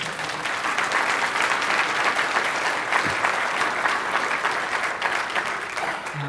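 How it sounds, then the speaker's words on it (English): A congregation applauding, with dense, steady clapping from many hands filling the room for several seconds at an even level. "give God a hand clap of praise"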